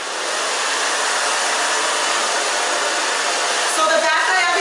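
A handheld hair dryer runs continuously at close range while drying short stacked bob hair styled with mousse, a steady airy whir with a slight shift near the end.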